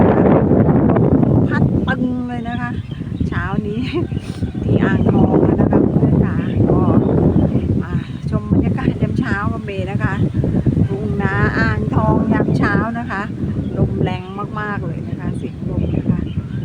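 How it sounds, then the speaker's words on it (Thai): Gusts of wind buffet the microphone in a low, rumbling roar on a cold morning in rural rice fields while someone talks continuously over it. "ฟังเสียงลมนะคะ"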